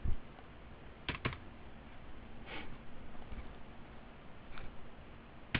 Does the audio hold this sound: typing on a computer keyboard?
yes